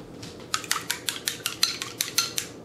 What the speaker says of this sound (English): I'm going to put 1 egg into a bowl.